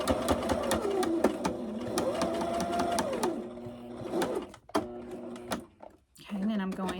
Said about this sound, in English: Put that presser foot down, and then sew across the bottom.